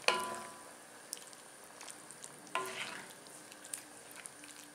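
Jackfruit being stirred in coconut milk in a cooking pot, heard as soft, faint scraping and sloshing with a few brief bumps of the spoon against the pot and a gentle background simmer.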